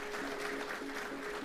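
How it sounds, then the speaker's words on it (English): Audience applause for a candidate at a prison program event, a steady dense patter of clapping throughout, fairly soft and even. "Let's give a round of applause for Mr."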